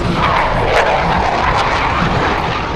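Blue Angels jet aircraft at an air show, engines roaring in a steady, loud broadband rush that fills the whole span without a break.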